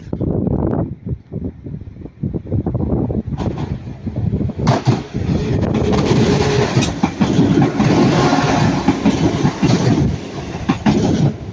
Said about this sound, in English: we've got Northern coming in this way, going from Manchester Piccadilly to Sheffield